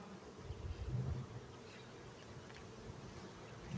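A steady, dense buzz of many honeybees at an open hive close by, continuous and droning with no voices.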